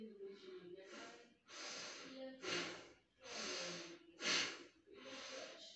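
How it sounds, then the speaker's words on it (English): Slow, deep breaths taken while lying prone in a breathing exercise meant to raise oxygen levels, heard close up as a series of long, airy inhales and exhales with short pauses between them. "Pronal posture, just deep breathing and enjoy."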